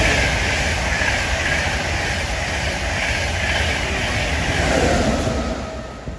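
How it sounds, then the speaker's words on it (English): An LNER passenger train bound for Hull runs past at speed on a rural line between Collingham and Swinderby, giving a loud, steady rolling rush that lasts for several seconds and then starts to fade. "This is a train, a service to Hull, but it is not a Hull train service."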